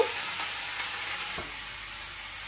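Food with green chili, salt and turmeric frying in a pan, producing a steady close hiss of sizzling oil with a couple of faint stirring knocks.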